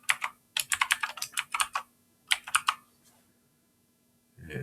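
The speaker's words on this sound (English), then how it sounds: "I have to type my password." Rapid, close keystrokes on a computer keyboard as a password is typed, in two quick bursts separated by a short pause, followed by a soft thump.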